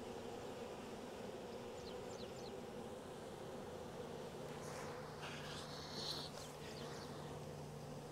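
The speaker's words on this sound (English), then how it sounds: "Got bees marching down there." Honey bees buzz in a steady, dense drone around a hive while colonies are moved from nucs into full-size equipment, a close, continuous hum with some individual bees whining past nearer the ear.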